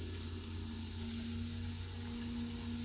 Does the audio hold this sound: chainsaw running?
no